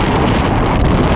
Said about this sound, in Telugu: గాలి అయితే గట్టిగా ఇస్తుంది.